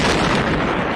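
A massive explosion of two neutron stars colliding, rendered as a continuous loud, dense roar filling the full second with no pauses or talk.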